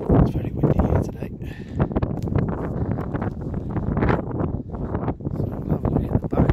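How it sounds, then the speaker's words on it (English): Heavy wind buffets the microphone in continuous gusty rumbles, loud and close, beside a 2009 Saab convertible, with a voice partly buried beneath it. "It's very windy here today."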